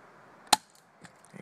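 A Gamo Big Cat air rifle fires once with a single sharp, close crack, followed by faint small clicks and handling noise in an otherwise quiet setting.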